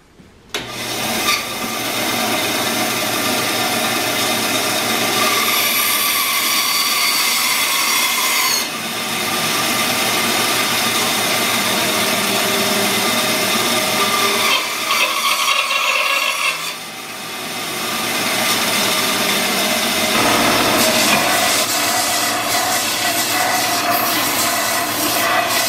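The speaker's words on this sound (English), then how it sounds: "I'll run over the sander, cut the edges off." Power sander smoothing the edges of a homemade wooden hammer handle, a steady loud abrasive whir that runs almost continuously, with brief dips as the handle is repositioned; no talking.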